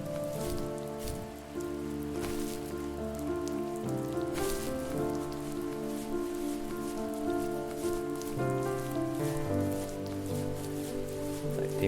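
Steady rainfall in The First Tree game keeps up a gentle continuous hiss under layered held musical notes, low in level and without interruption.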